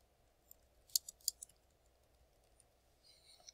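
Typing on a computer keyboard, a few faint, sharp key clicks in a quick cluster followed by scattered soft taps in a quiet room.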